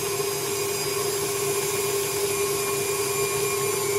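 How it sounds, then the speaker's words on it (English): A KitchenAid stand mixer kneads dough for jelly-filled donuts, its motor giving a steady, close, continuous whirring hum with no pauses and no talk. "KitchenAid mixer"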